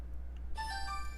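A phone rings inside a video game, a bright electronic ringtone tone that starts abruptly partway through over a low steady hum, with no talking.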